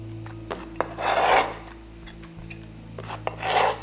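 A knife slices thin pieces of bitter gourd on a board for a sambol, giving soft rasping strokes with a few sharp taps. The strokes come in two louder bursts separated by quieter scraping, close and alone with no voices.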